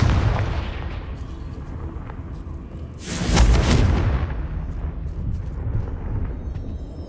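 A Confringo fire spell in Hogwarts Legacy detonates as one loud, booming blast partway through, rising out of steady, rumbling game ambience and fading back into it over about a second.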